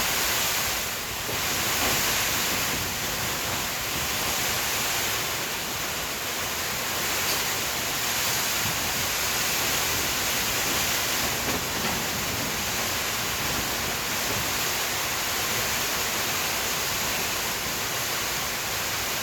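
Strong typhoon wind roars outside a barracks, a dense, steady rushing noise with slight surges that lasts throughout, loud and with no talk over it.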